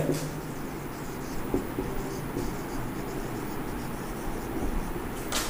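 Pencils scratching on paper as UKG children practise writing numbers in a classroom, a continuous soft scraping texture with scattered small taps and a faint background hum.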